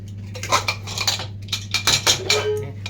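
A pressure cooker of lentils being opened after four whistles, with loud close metallic clatter and clinks of the lid and pot over a low hum.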